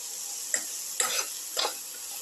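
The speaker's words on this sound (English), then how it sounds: "Salt and mix thoroughly." Snake gourd and tomato mixture with chili powder, turmeric and salt being stirred in a pan, three soft scraping strokes over a steady sizzle, close and alone.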